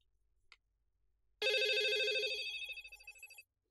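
A telephone rings indoors in a Vietnamese TV drama scene: one loud, close, trilling ring burst lasting about two seconds, with a rapid warbling pulse that fades slightly toward its end, preceded by a faint click and no talking.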